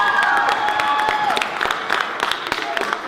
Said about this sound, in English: Could you give them a big round of applause for lining us all up?